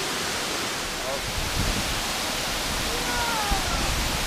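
Amicalola Falls in North Georgia gives a steady, broadband roar of rushing water that fills the whole clip without pause, with faint voices underneath.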